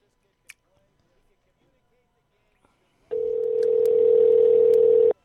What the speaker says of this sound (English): I want to hear that dial tone, please.